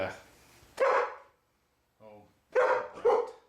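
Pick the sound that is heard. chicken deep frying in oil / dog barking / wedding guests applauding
dog barking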